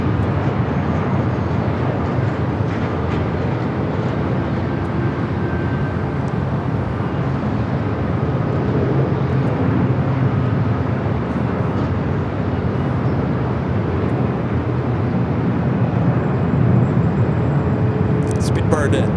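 A British Airways jet touching down at LAX, a loud continuous roar of engines and rushing air heard from a distance, holding steady for the whole stretch.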